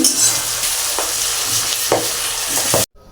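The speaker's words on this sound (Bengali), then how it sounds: "আকন্দ পাতাগুলো ভালো করে ভেজে নেবো আমি" Chopped akanda (crown flower) leaves frying in oil, a loud, continuous sizzle with a few soft stirring knocks, cutting off abruptly at the end.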